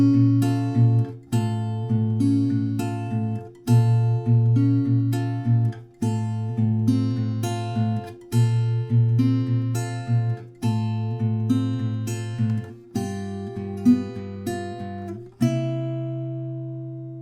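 An acoustic guitar fingerpicks the last chorus of a song, with steady picked patterns over ringing bass notes and a final chord left to ring out. Close and clear, with no voice.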